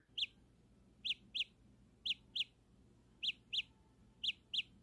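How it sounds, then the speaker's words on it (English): Samsung Galaxy Buds earbud sounding its find-my-earbud alert, short high electronic chirps mostly in quick pairs repeating every second or so, fairly quiet against a low background, no speech. "it will play a chirping sound that isn't the loudest"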